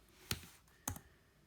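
Two crisp, separate keystrokes on a computer keyboard sound close and quiet, about half a second apart, with near silence around them.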